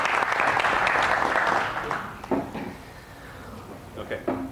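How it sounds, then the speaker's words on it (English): Audience applause for a field service manager introduced at a Coin Mechanisms, Inc. presentation, a dense burst of clapping that fades after about two seconds into a quieter room with a few scattered claps. "Give him a big round of applause."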